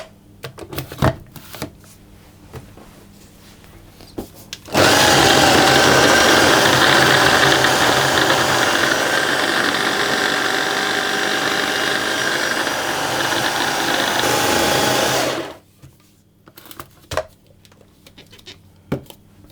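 A food processor runs continuously for about ten seconds, mixing butter into hazelnut biscuit dough with a loud, steady whirring motor and a rattling, churning texture. The sound starts and stops abruptly, and quiet handling knocks come before and after.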